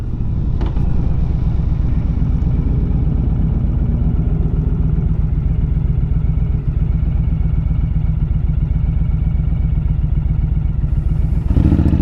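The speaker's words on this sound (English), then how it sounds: "Honestly, for a stock exhaust, this sounds pretty good." A 2010 Honda Fury chopper with its stock exhaust and 88 cubic inch engine idles steadily, a close, loud, even rumble with rapid pulsing that holds for about eleven seconds before a brief rise at the end.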